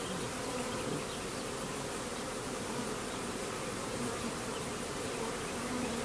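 A swarm of honeybees hums steadily as the bees move up into a hive box after being taken from a tree, a dense, continuous buzz close by that holds at an even level throughout with no voices.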